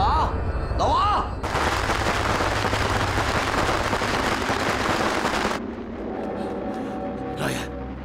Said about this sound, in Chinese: 这是谁让你放鞭炮的？